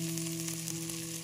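Turmeric and garam masala sizzle softly in oil in a pan over low heat for a tomato curry, a faint, steady frying hiss with a low hum behind it and no one speaking.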